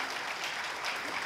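A lecture hall audience claps after a Paryushan talk, with dense, even applause that runs steadily throughout at moderate volume.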